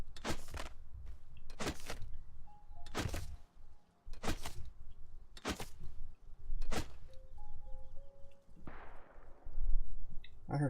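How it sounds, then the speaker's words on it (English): Sharp gunshot cracks from a video game ring out several times at irregular intervals, each a loud broadband burst with a short tail, over a steady low background hum. "I heard a gunshot."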